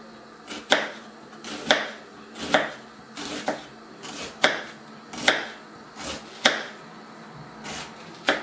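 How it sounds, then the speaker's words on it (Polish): A knife chops an onion into small dice on a cutting board in a home kitchen, roughly a dozen crisp, evenly spaced strikes at a steady rhythm, close and clear with no talking. "będę kroić cebulkę w drobną kostkę"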